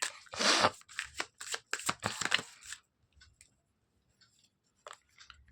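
Tarot cards shuffled by hand, a dense run of crisp riffling and slapping for nearly three seconds, then quieter scattered taps and flicks as cards are drawn and laid down, close and alone.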